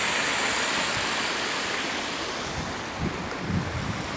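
Small waterfalls and little streams feed the main pond of a Japanese garden, giving a steady, dense rush of falling and flowing water that stays fairly loud and even throughout, with a few low bumps toward the end.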